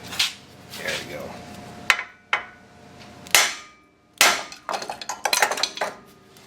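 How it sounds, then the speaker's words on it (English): A brake caliper drops during front air bag installation on a 1966 Chevy truck, giving sharp metallic clanks and clatters in a few separate bursts, loud and close, ending in a rapid run of rattling knocks. "And we still dropped our caliper."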